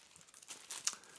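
A clear plastic bag crinkles around a stainless steel bottle in quiet, close, irregular rustles and crackles that grow slightly louder toward the end.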